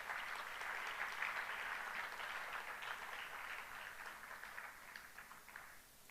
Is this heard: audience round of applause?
yes